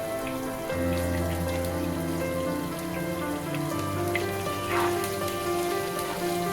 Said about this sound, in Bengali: এবার আমি বাকি তেলের মধ্যে 3টে শুকনো লঙ্কা আর একটু গোটা জিরে ফোড়ন দিয়ে প্রথমে দিয়ে দিলাম কুমড়ো। এইবার দিয়ে দিচ্ছি আলুর টুকরোগুলো।